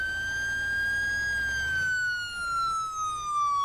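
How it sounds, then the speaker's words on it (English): A loud wailing fire truck siren in a video game sweeps slowly in pitch, close by, over a low engine rumble. "Hit the siren."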